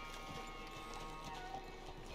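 Horse hooves clip-clopping steadily in Red Dead Redemption 2, a continuous rhythmic trot at moderate distance under a faint game ambience, with no talking.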